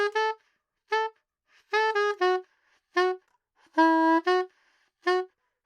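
A saxophone plays a short, punchy bass line of separate, clearly tongued notes with gaps of silence between phrases, loud and close.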